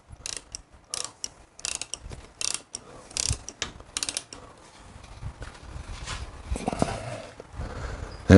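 Ratchet tightening the lug bolts on the rear wheel of a Panhead Harley, giving a run of close, sharp clicking bursts in short repeated strokes, with louder handling noise toward the end.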